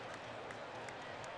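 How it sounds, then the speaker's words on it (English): A faint wash of applause and crowd noise rolls through a handball arena as the Macedonian and Czech teams clap for the fans at EHF EURO 2014, steady and distant. "So applause for the fans from the teams."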